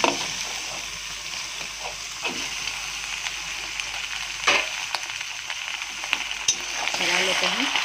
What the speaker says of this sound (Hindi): अब इसमें हम चिकन डाल दे रहे हैं, धो के साफ कर दिए हैं चिकन के।